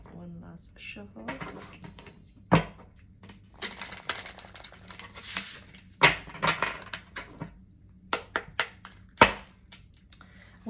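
Tarot cards shuffled by hand in a quiet room, giving a series of short papery riffles and sharp slaps at irregular intervals, close and moderately loud, with a few soft handling rustles between them.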